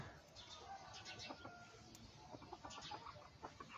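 A chicken clucks quietly in the distance, short repeated clucks and calls over a faint outdoor background.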